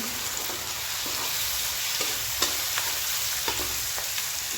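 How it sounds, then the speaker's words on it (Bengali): Green and dried chilies fry in a pan with a steady sizzle while a utensil stirs them, giving soft scraping clicks at irregular intervals; close and fairly quiet, with no talking. "কাঁচা লঙ্কা দিলাম, শুকনো লঙ্কা দিলাম, একটু নেড়ে নিচ্ছি।"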